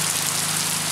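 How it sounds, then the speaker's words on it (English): Steady rain pours down in Looc, Romblon, Philippines, a dense even hiss of falling water with a low hum underneath and no voices. "it's raining here in Looc, Romblon"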